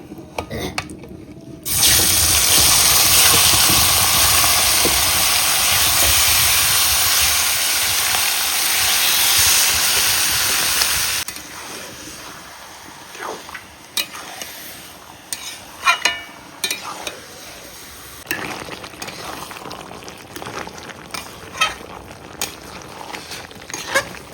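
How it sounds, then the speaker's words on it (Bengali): Whole spices tempering and chicken pieces hitting hot oil in a home kitchen pan for desi chicken curry, a loud dense sizzle that bursts in after a moment and runs steadily, then drops to quieter scattered stirring clatter. "তেল গরম হয়ে গেছে ফোড়নটা দিয়ে দেব এবার মাংসটা দিয়ে দেবো"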